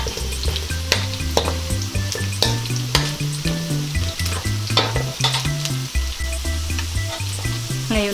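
Pork browning in a frying pan sizzles steadily, with rhythmic lower thumps and scraping from stirring throughout and nobody speaking.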